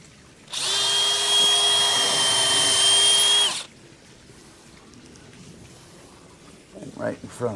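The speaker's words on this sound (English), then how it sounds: "I'm going to pre-drill the holes." A power drill pre-drills screw holes while a patio screen is fitted, one steady whining run of about three seconds, loud and close, followed by quiet room sound and a brief rustle.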